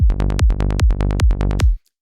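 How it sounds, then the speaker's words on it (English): A basic synth bassline from the Serum synthesizer plays as a run of about nine evenly spaced, punchy plucked bass notes, loud and alone, ending abruptly in silence. "Here I have a really basic bassline."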